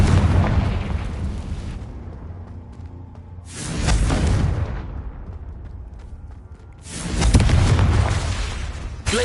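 Three loud, booming explosion bursts from the Confringo spell in Hogwarts Legacy, each swelling and fading, separated by quieter stretches of rumbling game ambience.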